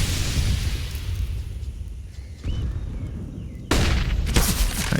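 A flashbang grenade goes off during a Counter-Strike match on the Ancient map, a sudden loud bang and burst amid ongoing gunfire and crowd-like game noise.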